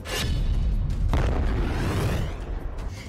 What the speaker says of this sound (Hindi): मिली M777 तोप दिखाई कि कैसे उसके धमाके ने रूस की सेना के पैर उखाड़ने शुरू कर दिए हैं